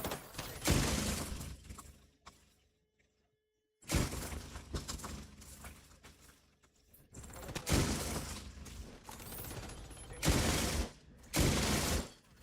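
Enemy turret in The Division 2 firing in rapid bursts of gunfire, loud and close, with sharp shattering impacts, broken by a brief near-silent gap before the shooting resumes in repeated heavy volleys.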